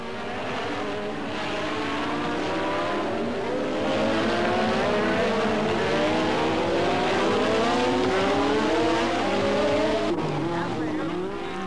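Formula One cars, including Toleman, McLaren Porsche and Williams Honda, racing in a hot Grand Prix, engines screaming with rising and falling pitch as several pass loudly, under a commentator's voice.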